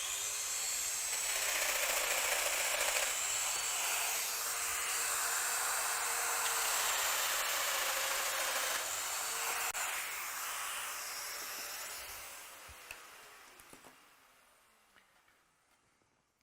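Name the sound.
Festool router routing dowel hole in wood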